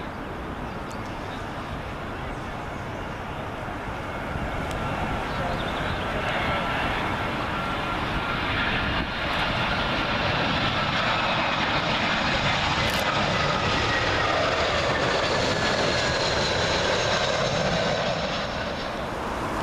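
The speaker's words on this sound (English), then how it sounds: "Next arrival in from Barcelona, we have another British Airways A320" A British Airways Airbus A320 arriving from Barcelona comes in to land on runway 27L at Heathrow, its broad jet roar building and swelling loud overhead, then holding steady as it passes close by without any talk.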